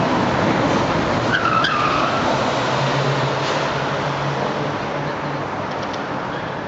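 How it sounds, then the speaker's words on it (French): A car skids during a police chase in the 13th arrondissement of Paris, a loud continuous tire squeal over roaring engine noise that slowly fades over several seconds. "Spectaculaire course-poursuite dans le 13e arrondissement de Paris"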